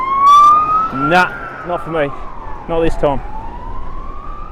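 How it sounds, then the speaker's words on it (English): Police car siren sounding during a bike ride around Herdsman Lake in Perth, a rising and falling wail fading toward the distance, while a nearby rider speaks briefly over it. "don't know why the cops have just turned their sirens on"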